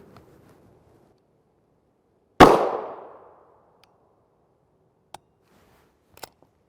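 A PSA Rock pistol with an RK1 slide and 5.2-inch threaded barrel fires a single loud, sharp 5.7x28mm round, 30-grain JHP, that rings out and decays, followed by a few faint metallic clicks.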